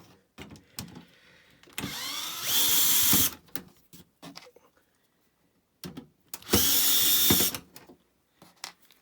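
Power tool working on the front cover of a Sony JE470 MiniDisc deck, two loud sustained whirring bursts about a second long each, separated by quieter handling clicks and knocks nearby.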